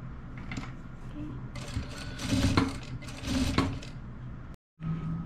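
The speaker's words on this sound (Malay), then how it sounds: "Okey, kita boleh jahit dia sampai habis." A sewing machine runs in bursts while stitching cotton fabric for a nightgown collar, its rapid mechanical chatter rising and falling, pausing briefly near the end, with faint talk underneath.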